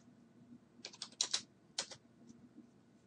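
Typing on a computer keyboard: a short close burst of rapid clicky keystrokes, then a few more separate key presses, in a quiet room.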